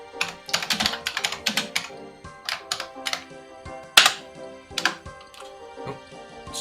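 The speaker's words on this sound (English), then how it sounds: "just typing in all caps" Fast clattering keystrokes on a computer keyboard, typed in quick irregular bursts with short pauses, close and crisp with no speech.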